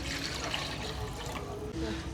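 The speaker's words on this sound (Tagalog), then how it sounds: "Lagyan na po natin ng tubig." Water pours steadily into a cooking pot for fish broth, a soft continuous splashing rush at low level that runs almost unbroken.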